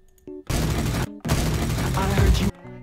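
Hammond fires his gun in a video game: two long, loud bursts of rapid gunfire separated by a brief pause, with no voice over them.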